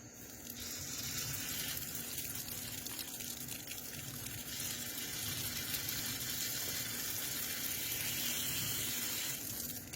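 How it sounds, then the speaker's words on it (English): Steady rushing water, a continuous close gush like liquid forced through a pipe, constant in level for the whole stretch with no voices. "all I'm going to do is blow a little water in"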